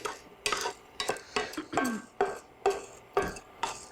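A spoon scrapes and knocks against a cooking pan while South Indian food is stirred, in repeated rhythmic strokes about twice a second, each a short clatter with faint sizzling between.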